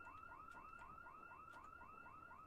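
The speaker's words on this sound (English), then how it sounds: "The house alarm just went off." A house alarm wails in the video game Project Zomboid, a rapid repeating electronic whoop cycling about four times per second, steady and fairly faint, with no talk over it.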